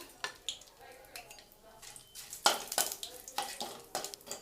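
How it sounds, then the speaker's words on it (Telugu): Whole cardamom, cinnamon sticks, cloves and a bay leaf crackling in hot ghee in a pot, faint irregular pops and scraping stirs in quick bursts over a quiet background. "వేసి కొంచెం లైట్గా వేగనివ్వండి"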